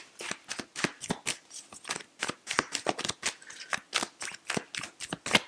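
Tarot cards are shuffled by hand in quick, uneven bursts of crisp riffling and slapping, close and clear, with short gaps between strokes and no talking over it.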